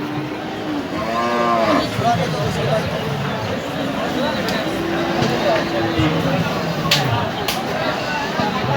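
Cattle mooing at the Hazratpur cattle market among large bulls: several drawn-out, deep lows from nearby animals, with people talking and a general crowd murmur throughout.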